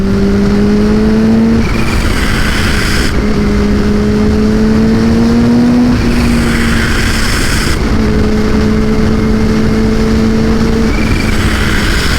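Kawasaki H2 motorcycle engine running steadily, with a loud, close exhaust note rising and falling in repeated revs across the whole stretch and no talking.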